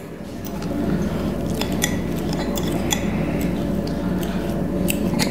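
A fork mashing avocado for guacamole, steady soft squishing with light metallic taps and clinks of the fork against the bowl, close and continuous.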